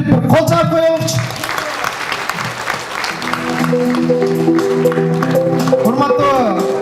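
An audience applauds at a school award ceremony, the clapping dense and continuous beneath a loud musical fanfare with tonal lines throughout.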